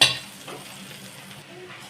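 Eggplant curry with fenugreek being stirred in a pot opens with a sharp metallic clink of a spoon, then a soft scraping and gentle simmering hiss, fairly close.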